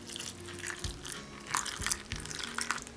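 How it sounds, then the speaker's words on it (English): Hot water poured over a cup of pistachios in a bowl, a close, steady wet splashing with a few crunchy rattles as the nuts shift. "Pour hot water over them."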